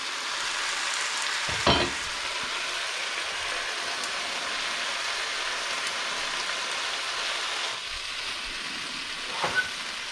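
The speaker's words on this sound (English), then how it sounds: "Then I'm going to move it over and let it finish in the pan" Shrimp and vegetables sizzling in a pan with cilantro for tacos, a constant broad hiss with a couple of brief scraping or knocking touches, close and fairly loud, no talk.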